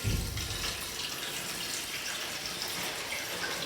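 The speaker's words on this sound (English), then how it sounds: "The other thing we're going to do is we're going to add some water to our dish." Water poured from a tap or jug into a dish for a foam-free modern blue flower arrangement, a steady close splashing and trickling that runs unbroken and alone.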